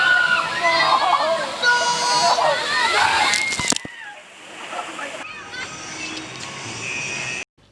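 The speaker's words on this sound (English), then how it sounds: "They are like mega water rides." A big Universal Studios water ride throws up loud, continuous rushing and splashing water, with crowd noise and screams mixed in and a sudden drop partway through.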